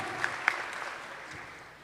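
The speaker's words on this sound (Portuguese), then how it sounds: "Salva de palmas para vocês." A church congregation breaks into applause at Mass, quiet and somewhat distant, with a few sharper claps early on before the clapping fades out.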